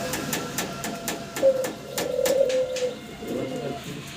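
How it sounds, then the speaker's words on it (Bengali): Yellow nun pigeons coo close by in a few soft, throaty rolling calls, with faint rustling and background noise between them. "ইয়েলো কালারের নান কবুতর দেখাচ্ছি আপনাদেরকে"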